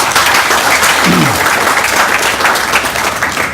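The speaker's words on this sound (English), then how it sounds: "Please give yourselves a round of applause." Loud, sustained applause from an audience at a contact center opening, a thick wash of many hands clapping together without a break, with brief murmurs underneath.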